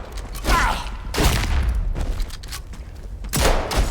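Gunshots in the video game Atomfall, three loud, sharp blasts spaced about a second apart, each with a short booming tail, close and prominent with little else around them.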